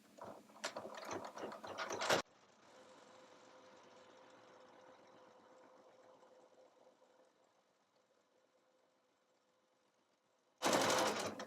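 A sewing machine with an M foot stitches a zipper bag, its motor whirring and rattling in a steady run that fades off, framed by louder bursts of handling at the start and end.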